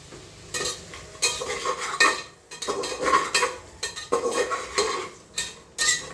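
Chopped potato frying in a pan with sliced vegetables for homemade khichdi, stirred in uneven bursts of scraping and light sizzle with short pauses between, close and fairly loud, no talking.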